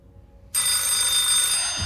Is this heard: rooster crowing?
no